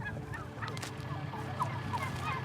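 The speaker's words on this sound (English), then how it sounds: "The typical turkey is raised in a barn with several other thousand turkeys." Many turkeys raised together in a barn on a farm the week before Thanksgiving gobble and honk over a crowded, continuous low murmur of the flock, with calls overlapping at moderate distance.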